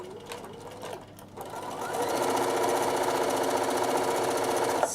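A sewing machine stitches fabric and reverses along a stitch line: a short burst of running, a brief pause, then a steady, loud, continuous mechanical whir.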